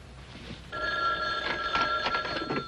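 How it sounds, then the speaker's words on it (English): An old telephone bell rings in a 1979 setting, a bright, trilling ring that starts abruptly after a quiet moment and continues in pulsing bursts, fairly close and loud. "Phone. Where's the phone?"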